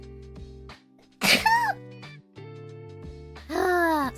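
A young woman streaming a game sneezes twice, two sharp voiced bursts with trailing tones over soft, steady background music.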